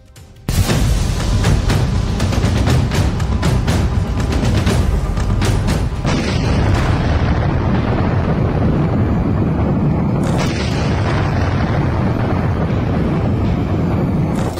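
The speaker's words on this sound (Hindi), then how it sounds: "ऐसा धमाका जिसकी शॉक वेव में ढह गया एक बड़ा इलाका।" A large explosion with a shock wave bursts in with a sudden, very loud boom, then a sustained roaring rumble that stays heavy for over ten seconds, with no voices present.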